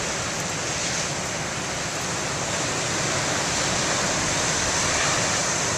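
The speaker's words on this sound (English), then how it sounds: "I have to stand behind here so the wind doesn't blow in the microphone and drown out the sound of the waves." Big ocean waves surge against the rocky shore below Beavertail Lighthouse in winter, heard as a steady, dense roar of surf with no distinct breaks, loud and continuous throughout with no voices.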